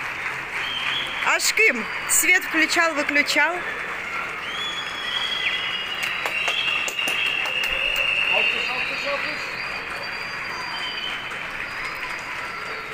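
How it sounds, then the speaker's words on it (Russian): Neighbours in Turkey clap from their balconies for medical staff, a distant, steady patter of many hands carrying across the street, with someone speaking close by at the start and whistles cutting through. "сегодня опять продолжили они хлопать в ладоши"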